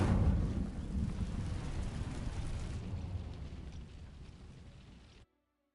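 The Incendio fire spell sets dry vines ablaze in Hogwarts Legacy, a sudden rushing whoosh of flame that roars loudly at first, then thins and fades before cutting off abruptly.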